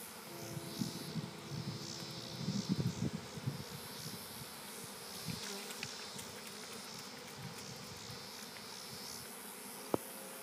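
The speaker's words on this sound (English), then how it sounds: "the bees from the parent hive will shut down this swarming program" A honey bee swarm from a parent hive hums steadily and continuously, with a dense, moderate buzz and a few brief rustles, and no voices.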